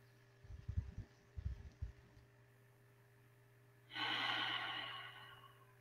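People exhale slowly and audibly during a guided breathing exercise, with a few short, soft breaths near the start followed by one longer, airy breath out near the end.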